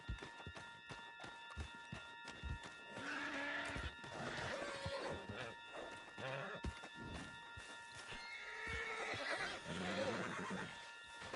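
In Red Dead Redemption 2, a horse whinnies and snorts close by while galloping hooves and thuds beat underneath, the neighs rising twice over the busy clatter.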